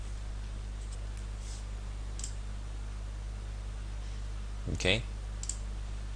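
A single soft mouse click on a Save Settings button, faint and near, set against a steady hum, with a brief spoken word close by.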